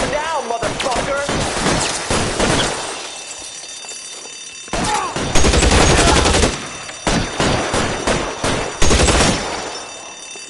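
Rapid bursts of gunfire from the video game LA Noire, loud and close, clustering into dense volleys separated by brief lulls, with a shouting voice cutting through between the shots.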